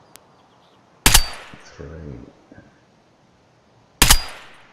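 Two loud, sharp rifle shots from Escape from Tarkov crack a few seconds apart while a rifle is fired at a target 200 m away, with someone briefly talking between them.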